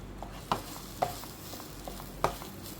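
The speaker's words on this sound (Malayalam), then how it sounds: "ഇതെല്ലാം കൂടെ നമുക്ക് ഒന്ന് ഇളക്കി യോജിപ്പിക്കാം." Maida flour mixture is stirred in a pan for poricha pathiri, with a few soft scraping strokes heard close up over a faint continuous background hiss.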